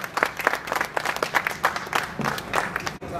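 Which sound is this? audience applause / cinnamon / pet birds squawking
audience applause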